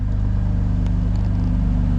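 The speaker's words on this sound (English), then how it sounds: "give the car a little rev, see what it sounds like" A BMW M2 Competition DCT engine runs steadily with a deep, throbbing low rumble throughout, holding a fairly even level with only slight rises, close by, car door open.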